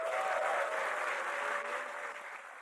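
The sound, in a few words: audience applause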